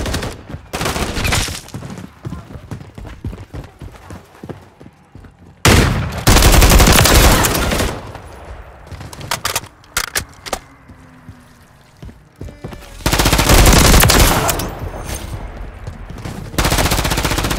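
Gunfire in Call of Duty MW3: loud bursts of rapid automatic fire and scattered single shots, coming in heavy waves separated by quieter stretches, close and intense.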